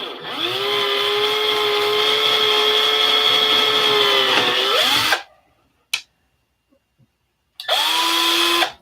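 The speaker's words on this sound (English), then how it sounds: "Now we got to drill holes in this." A power drill bores holes, roughly eyeballed, in a workpiece: a loud steady whine runs about five seconds, winds down and stops, then after a short silence a second burst starts near the end.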